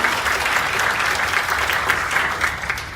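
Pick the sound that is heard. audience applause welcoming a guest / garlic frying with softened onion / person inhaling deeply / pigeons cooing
audience applause welcoming a guest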